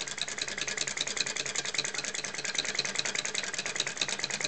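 A small flame gulper engine, a vacuum-type flame-eater running outdoors, gives a fast, even chuffing rattle at a steady rhythm, close and moderately loud with no talking.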